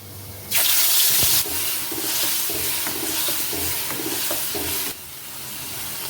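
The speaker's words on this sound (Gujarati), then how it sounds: "આ ગ્રેવીમાં તેલ ના છૂટે ત્યાં સુધી આપણે ગ્રેવીને થવા દઈશું" Tomato gravy of onion, tomato, garlic, cashew and melon-seed paste cooks in oil in a pan, giving a loud, steady hiss and sizzle that swells for a moment, then settles into continuous bubbling with faint clinks.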